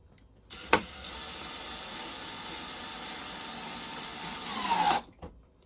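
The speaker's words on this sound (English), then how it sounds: "You can kind of hear the drill change sounds a little bit." Cordless power drill drives screws into a TV wall mount inside an RV, a steady whirring run of about four seconds whose pitch shifts near the end before stopping.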